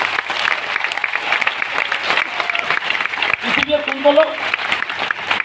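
Audience clapping at a gathering in a hall, a dense patter of many hands under a voice speaking, the clapping continuing as he talks and a brief tonal sound appearing partway through.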